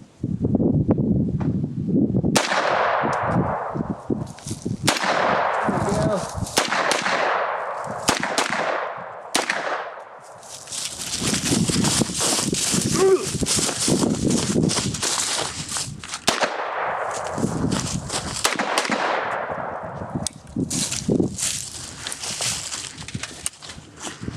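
A CMMG Banshee 9mm firing Federal American Eagle 115 grain full metal jacket rounds: a string of loud, sharp shots, some spaced and some in quick bursts, each with a decaying echo, with no talk over them.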